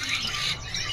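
Oriental magpie-robin (kacer) at a bird market, a short burst of harsh squawking chirps heard close and fairly loud.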